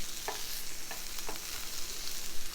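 Asparagus crisping in a frying pan gives a steady, close sizzle, with a few soft scraping taps of a utensil turning the spears as they fry.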